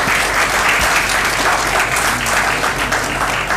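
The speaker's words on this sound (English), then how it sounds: "So a clap for her as well." Audience applause at a regional inclusive justice symposium, a dense steady clapping that fills the room evenly from start to finish with no voices over it.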